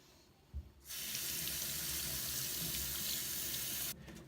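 Water from a tap runs steadily while hands are washed before cooking, a strong, close flow lasting about three seconds that starts and stops abruptly.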